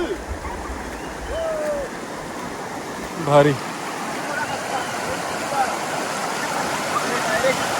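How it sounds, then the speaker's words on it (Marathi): A small mini waterfall feeding a stream in monsoon-season Amboli rushes with a steady broadband wash of flowing water. A brief splash sounds midway, and people talk over the flow. "वॉटरफॉल आहे, छोटा मिनी वॉटरफॉल."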